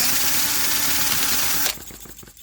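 A small vintage Japanese Yanmar gasoline engine model runs steadily with a busy mechanical chatter, then abruptly cuts out, leaving quieter uneven sputtering and ticking as it winds down.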